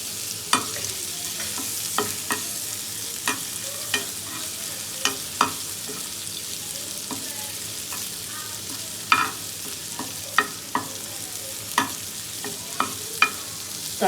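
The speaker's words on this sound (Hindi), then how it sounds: "अब इसमें लहसुन को थोड़ा सा सौते कर लेंगे हम।" Chopped garlic sautés in about two tablespoons of hot oil for kebab gravy, sizzling softly and steadily, with a spoon scraping and clicking against the pan at irregular moments throughout.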